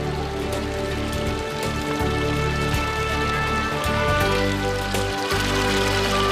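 Water from a fountain in Plaza del Torico, Teruel, splashes in a continuous, even hiss of falling droplets, close and unbroken with no voices.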